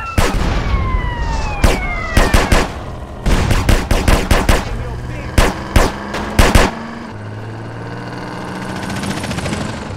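Bursts of automatic gunfire crack out in rapid clusters during a drive-by in GTA San Andreas, loud and close, with a helicopter-like drone and vehicle noise underneath between volleys.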